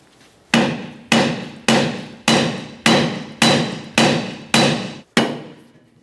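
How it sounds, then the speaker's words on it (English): Hammer blows on the rear upper control arm of a 1994-1997 Honda Accord, nine loud, evenly spaced metallic strikes ringing out close up with no talking. "Continue on with a hammer."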